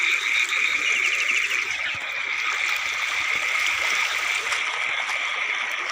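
Water rushes and trickles steadily, a constant close babbling flow with a thin high whine running through it.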